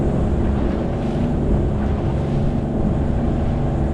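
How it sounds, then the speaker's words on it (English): A homemade boat's motor runs roughly on the water with a dense low rumble and broadband wind-buffeted noise, steady and close throughout. "Motor does not sound happy."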